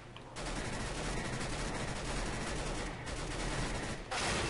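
MAC-10 submachine gun firing in Counter-Strike: Global Offensive, a dense rapid burst of automatic gunfire sustained for several seconds with short breaks, loud and close.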